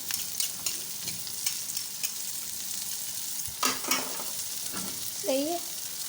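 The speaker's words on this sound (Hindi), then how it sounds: "तो यहाँ पर मैं आ गई सब्ज़ी फ्राई करने के लिए" Vegetables sizzle in a frying pan while being stirred, a steady moderate hiss broken by a few scraping stirs and brief clatters near the end, with no talking.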